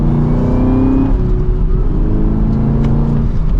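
A 2023 Chevrolet Camaro ZL1 accelerating gently, its engine droning loud and steady from inside the car with a smooth rising rumble and no talk.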